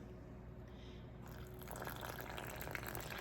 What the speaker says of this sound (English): And to that well, I'm going to add some ice water.